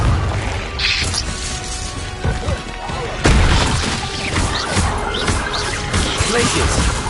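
Confringo fire spell blasts from Hogwarts Legacy combat, loud crashing impacts and booms in a busy battle mix, with a sharp heavy burst about midway and ongoing thuds and clashes, voices talking over parts of it.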